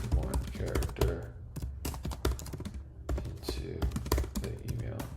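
Rapid clicky keystrokes on a computer keyboard arrive in irregular bursts with short pauses, close and fairly loud, while a voice speaks over the typing.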